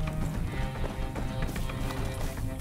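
Horse hooves clip-clop in Far Cry 6, a dense, continuous patter of steps under busy game ambience and music, fairly loud and close.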